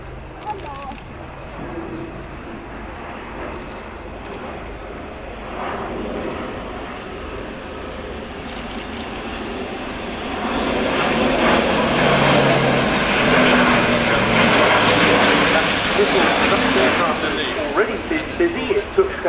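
An Airbus A400M military airlifter flies past at the RIAT airshow, its engine roar building steadily and growing louder and fuller in the second half as the aircraft passes close.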